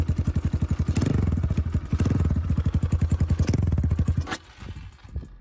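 A small single-cylinder engine of an ERZ 250 dirt bike fitted with a dual-outlet CRF exhaust, cold, close by, revving in a fast, popping, throaty rhythm, holding steady, then dropping sharply to a rough idle.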